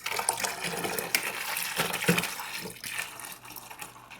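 Welch's grape juice pours from a large gallon jug, splashing and splattering as it gushes out unevenly. The sloshing liquid sounds close and moderately loud, with no talking.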